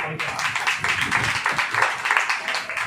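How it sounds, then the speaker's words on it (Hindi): A church congregation claps together during a Hindi worship service, a dense, steady patter of many hands filling the room, with voices calling out under the clapping. "एक बार ताली बजा दीजिए।"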